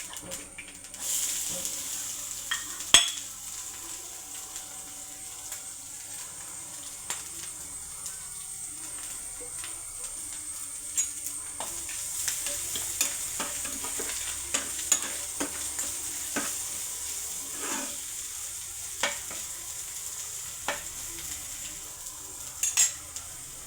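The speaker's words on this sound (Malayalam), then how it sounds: "ശേഷം കാന്താരി, തേങ്ങ, മഞ്ഞൾ, വെളുത്തുള്ളി എല്ലാം കൂടെ അരി പൊരിഞ്ഞതിനൊക്കെ ഇട്ട് കൊടുക്കുക." Kanthari chilli, coconut, turmeric and garlic frying with roasted rice in a pan, a soft steady sizzle broken by frequent scraping stirs and clinks of a spoon against the pan.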